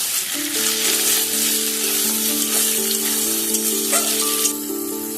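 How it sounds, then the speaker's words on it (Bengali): Capsicum and onion frying in a pan, a loud continuous sizzle with steady crackling and a low musical tonal hum running underneath. "এখন এর মধ্যে দিয়ে দিচ্ছি ক্যাপসিকামগুলো। এখন এগুলোকেও একটু ভালোভাবে ভেজে নেব।"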